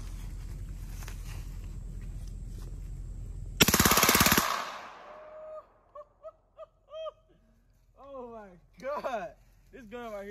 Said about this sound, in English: I got an AR-9 right here, and it's fully automatic and it's suppressed.